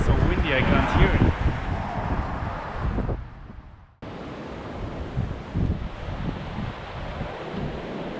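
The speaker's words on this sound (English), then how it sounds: "it's so windy I can't hear it." Strong wind roars across the microphone on a cycling trip near the road to Istanbul, loud and blustery with heavy low rumble, briefly dropping out before surging back just as dense.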